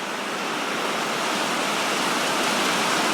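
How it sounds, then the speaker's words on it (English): Heavy rain pours down in a dense, steady roar, loud and unbroken throughout with no voices. "Praise the Lord, we need the rain."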